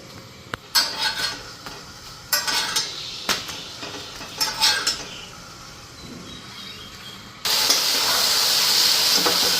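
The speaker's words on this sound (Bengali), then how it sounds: "একটা একটা করে ভেজে নিয়ে যাচ্ছে আজকে রুটিগুলি।" Rotis are fried one by one, with metal clinks and scrapes against the pan, then a loud, steady hiss of hot frying that takes over near the end.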